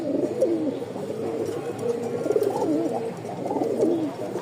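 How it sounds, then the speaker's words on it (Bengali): Pigeons coo in a steady series of soft, throaty, rolling calls close by, repeating without pause and with no speech. "জোস একটা কবুতর সারা দিন ডাকবে সারা দিন"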